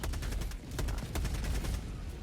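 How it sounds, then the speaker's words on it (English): Rapid bursts of Orbital Gatling Barrage fire pound the ground in Helldivers 2, a dense, loud, fast run of shots rattling continuously for the whole stretch. "So we call in an Orbital Gatling Barrage here."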